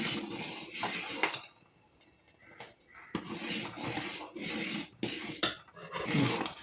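Sago (sabudana) mixture for crisps being stirred in a pan: a spoon scrapes and clinks against the metal in uneven repeated strokes, close and fairly clear, with a brief quieter pause midway.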